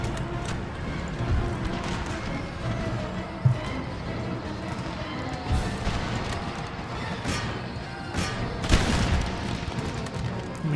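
A distant battle in Empire: Total War, with scattered booms of artillery and crackling musket volleys rolling on under a busy rumble and a few sharper blasts, continuing through the whole stretch without any talking.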